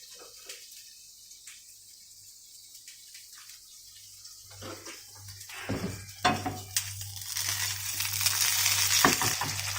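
An egg cracked into a hot pan while cooking a simple Thai pad kra pow moo meal: a quiet stretch gives way to a rising, close sizzle with a few sharp pan clatters, growing louder and fuller toward the end.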